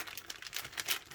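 A Ziploc plastic bag crinkles in short, soft bursts, a quick run of faint rustles that sounds close by.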